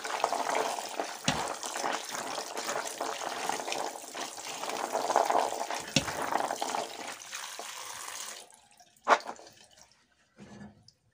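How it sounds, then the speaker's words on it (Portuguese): Running tap water rinses chickpeas in a kitchen, a continuous hissing, splashing flow with a few sharper knocks, then the water shuts off leaving near silence and a brief clatter. "Vamos lavar bem com água corrente"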